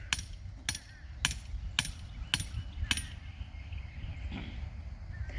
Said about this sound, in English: he can just use a regular hammer instead of the sledgehammer